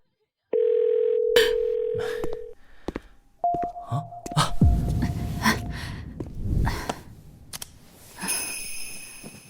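A telephone gives a steady call tone while the caller waits for someone to pick up, with two long beeps, then gasps, rustling and scattered clicks follow, loud and close.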